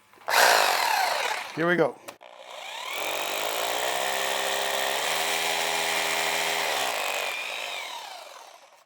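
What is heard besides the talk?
power drill drilling holes for 3/16 Tapcon screws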